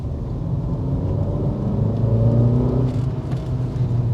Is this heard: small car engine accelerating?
yes